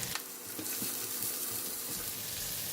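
Shallots, yellow onions and green chili stir frying in a pan, a soft continuous sizzle with faint scraping and stirring, fairly quiet with no voices.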